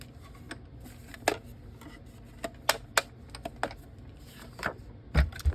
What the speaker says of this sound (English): Now I'm going to bring in my mini cut and emboss, and we're going to quickly cut this out.